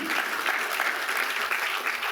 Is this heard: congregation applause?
yes